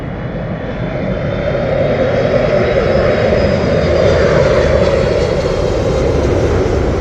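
A Delta Airlines Airbus A330 comes in to land at Heathrow Airport with a loud, continuous engine roar and broad rushing hiss, holding steady and close throughout.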